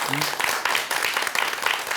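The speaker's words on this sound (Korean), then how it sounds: "박수 한번 쳐드릴까요?" Brief applause from listeners during a Buddhist dharma talk: a short burst of close, steady clapping from a small audience, with a voice briefly heard at the start.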